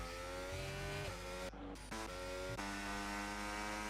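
An F1 car on a qualifying lap around Jeddah in the F1 25 racing game, with a loud, high engine whine climbing through the gears, a sharp drop on a downshift, then renewed revving.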